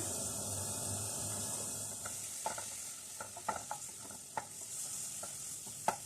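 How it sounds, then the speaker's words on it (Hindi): Chopped onion sautéing in oil, a soft steady sizzle broken by a run of sharp spoon taps and stirring scrapes against the pan, with no voices. "ये चॉप प्याज इसमें डाल देंगे और इसको थोड़ा सा सोते कर लेते हैं"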